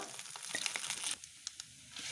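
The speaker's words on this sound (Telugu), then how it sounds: "కొంచెం ఫ్రై కానివ్వాలి వన్ స్పూన్ జీలకర్ర వన్ స్పూన్ ఆవాలు మూడు ఎండుమిర్చి కొంచెం కరివేపాకు" Cumin, mustard seeds, three dried red chillies and curry leaves frying in hot oil for mint chutney, a close crackling sizzle with sharp pops and spits that eases into a quieter fizz.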